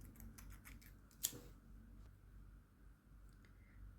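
Scissors snip through crochet yarn with one crisp, sharp cut among soft handling rustles, close and quiet, with no talking.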